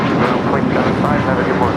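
A Sun Country Boeing 737-800 on flight 422 to Minneapolis roars at LAX runway 25 right, a broad, loud engine rush with a voice speaking over it.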